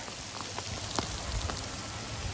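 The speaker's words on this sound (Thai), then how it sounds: "ฝนตกเม็ดใหญ่ด้วย" Heavy rain with big drops falls at the Sdok Kok Thom temple ruins, a loud constant hiss with scattered close splats and no talking.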